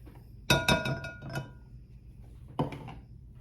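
Butter being scraped from a utensil into a mixing bowl while creaming it for chewy ginger snaps, giving a rapid cluster of close, bright clinks and a second short clink burst a moment later.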